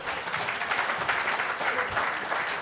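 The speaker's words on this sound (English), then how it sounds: "Just clap in advance." Audience applause at a talk fills the room with a steady, crackling wash of many hands clapping together, sustained and fairly close throughout, with no voices standing out.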